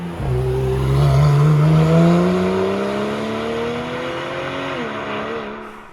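Porsche 991 GTS engine revving hard, exhaust note climbing steadily in pitch through the rev range, then easing off and settling, loud and close with no talk over it.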